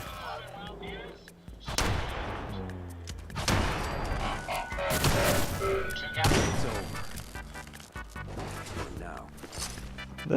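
Gunfire in Fallout 4 on survival difficulty, with repeated shots and heavy impacts bursting at irregular intervals, loud and close, under ongoing game sounds and a talking voice.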